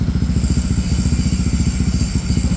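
A motorcycle fitted with a standard racing exhaust revs loudly and close by, its engine pulsing in a fast, even throbbing rhythm throughout.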